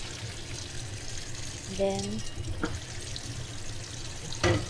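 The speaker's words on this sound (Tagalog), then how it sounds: "buhusan natin siya ng tubig guys" Water is poured over drained fettuccine pasta in a kitchen sink, a soft, steady splashing wash under a voice, with a few brief clinks.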